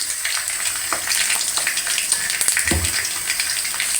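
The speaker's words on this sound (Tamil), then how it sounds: "அந்த எண்ணெயிலே கொஞ்சம் மிளகாய் போட்டுருவோம்." Green chillies fry in hot oil, a close, dense crackling sizzle with a few sharper pops and stirring sounds over four seconds.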